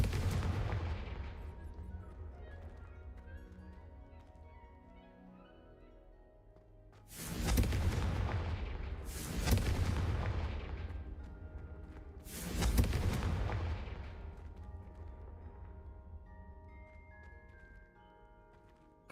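Confringo spell explosions in the Hogwarts Legacy video game, lighting braziers during a trial: three loud booming blasts a few seconds apart over a low ambient rumble, each decaying slowly.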